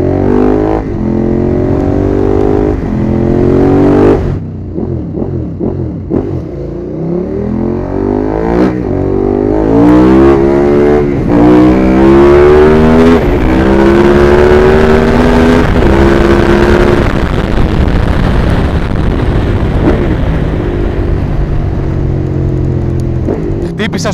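A motorcycle engine being blipped and revved while standing still, loud and close, with rising and falling pitch sweeps over a continuous rough idle.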